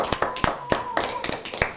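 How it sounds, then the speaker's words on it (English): A church congregation clapping their hands during a worship service, with sharp, distinct claps that come in an uneven rhythm, fairly close and moderately loud, with faint voices underneath. "Clap your hands and celebrate Jesus."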